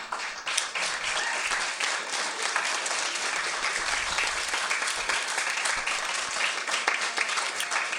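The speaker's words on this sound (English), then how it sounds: "I think all candidates deserve a round of applause." Sustained applause from an audience at a municipal all-candidates meeting, steady dense clapping filling the room for several seconds without speech.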